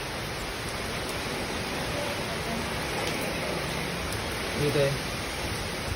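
Strong wind and heavy rain during a storm in Banyuwangi make a dense, steady roaring wash throughout. A person speaks briefly over the noise.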